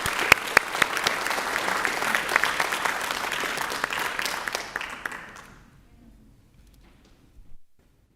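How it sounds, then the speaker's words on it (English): Applause from a school board meeting audience honouring award-winning students, a dense, steady burst of many hands clapping that fades out around five seconds, leaving near silence. "So let's give our students a round of applause."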